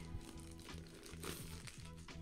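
Plastic crinkles and rustles steadily for a couple of seconds, close up and fairly quiet, with no talking.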